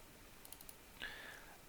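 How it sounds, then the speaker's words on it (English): A few soft, quick keystrokes on a computer keyboard, then a single brighter click, faint and close against a quiet background. "So we're going to go ahead and type in false, enter."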